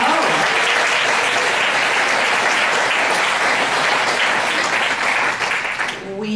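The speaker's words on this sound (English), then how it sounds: "give you a big old round of applause" A large audience breaks into loud, sustained applause, dense clapping that holds steady for several seconds before fading at the end.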